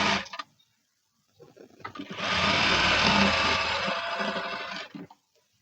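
Sewing machine stitching blouse cloth: a short burst of motor whirr, a pause, then a sustained steady run of close mechanical stitching lasting about three seconds before stopping.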